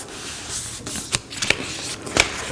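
Wrapping paper is folded and creased over a book, making soft rustles with several sharp crinkling snaps, close and fairly loud with no speech.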